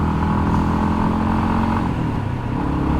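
Steady engine drone of a Yamaha XT250 motorcycle while riding, a continuous close rumble with no talk.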